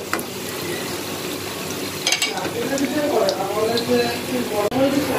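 Singaras fry in hot oil in a pan, giving a steady sizzle with occasional stirring scrapes, while someone talks over the cooking.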